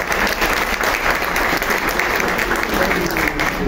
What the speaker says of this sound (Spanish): Y un aplauso para Enrique.